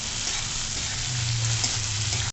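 Tomato goes into a hot pan of sambar with oil, setting off a steady close frying sizzle with soft crackle that holds level for a couple of seconds, no speech.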